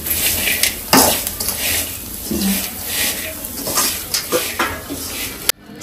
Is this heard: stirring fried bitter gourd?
yes